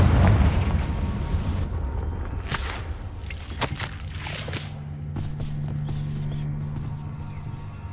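A Confringo fire spell blasting in Hogwarts Legacy, with heavy booming explosion hits and sharp crackling bursts over a low rumble, then a lingering hum.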